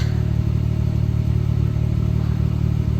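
A 1999 Plymouth Prowler engine rumbles steadily through its twin-pipe exhaust, a deep, continuous throaty drone held close and loud with no talking.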